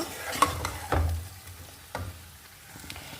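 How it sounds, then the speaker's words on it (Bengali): Pasta in tomato sauce being stirred in a pan, with a soft sizzle under a few distinct scraping and clacking strokes of the spoon spaced irregularly, close by and without talk. "তো এখন নেড়ে চেড়ে নামিয়ে নিব"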